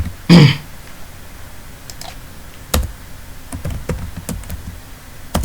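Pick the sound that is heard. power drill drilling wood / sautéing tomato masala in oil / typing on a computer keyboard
typing on a computer keyboard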